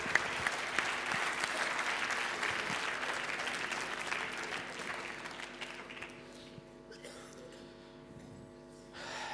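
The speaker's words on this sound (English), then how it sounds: "Give them a very big round of applause, please." A big round of applause from a crowd at a Toastmasters speech contest in Qatar, dense clapping that gradually tapers into scattered claps and room noise.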